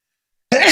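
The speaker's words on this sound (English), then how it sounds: "I thought that was going to keep me like in sneeze mode for like a minute" A single sharp sneeze bursts out after a moment of silence, close and loud.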